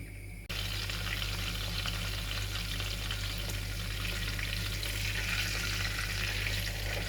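Bulgur kyufta patties fry in a covered pan with a steady, dense sizzle that starts abruptly after a brief pause and holds loud and even to the end.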